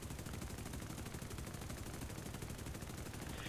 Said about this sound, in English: Now there's gunnery coming from somewhere else.